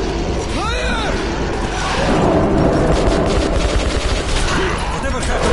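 Missile launch and gunfire in the video game Metro 2033 Redux, a sweeping whoosh early on followed by sustained rattling bursts and booms, loud and continuous, with some voices underneath.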